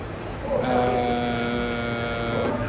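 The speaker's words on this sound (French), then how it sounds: "Pas trop de mal avec la clim à fond." Air conditioning blowing at full blast inside a large venue during a Final Fantasy XIV fan festival, a steady droning hum with tonal whine that swells slightly and holds constant, no speech over it.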